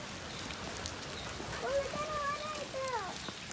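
Rain falling outdoors in Kerrville, Texas in February near a creek and puddles, a faint steady patter with a brief voice in the middle of it.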